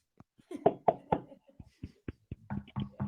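Knuckles rapping on a head in a knock-on-wood gesture during a conversation, a run of dull close knocks in uneven rhythm, some doubled, with no speech over them.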